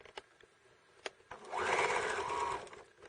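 A sewing machine stitches fabric for a one-piece mitten with a larger stitch length. A few light clicks come first, then a steady, close mechanical whir runs for about a second before stopping.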